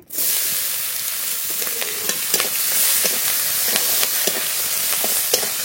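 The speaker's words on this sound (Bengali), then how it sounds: "পেঁয়াজটা একটু হালকা করে ভেজে নেব।" Dried chilli, whole bay leaf, cumin and chopped onion frying in hot oil for fish curry, a loud steady sizzle with occasional crackles and stirring clinks close by.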